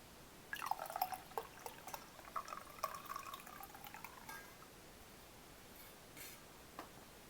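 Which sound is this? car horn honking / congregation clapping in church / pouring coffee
pouring coffee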